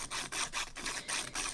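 The tip of a coloured pencil is rubbed against a small sandpaper pad in short strokes to sharpen it. The quiet scratchy rasping comes in a steady rhythm of about six quick strokes, up close and with no talking.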